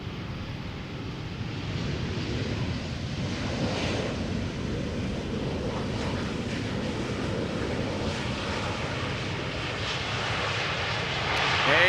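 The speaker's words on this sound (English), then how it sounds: "The airplane we're now seeing arriving from Bordeaux, touching down after an hour and 20 minutes of flight." A 13-year-old airliner from Bordeaux touches down at Amsterdam Schiphol. Its continuous, broad engine roar holds steady and grows louder at the very end, with no voices.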